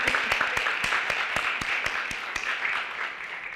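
An audience applauds at a high school community forum, with steady, dense clapping from a crowd and a few louder, nearer individual claps standing out in a loose rhythm.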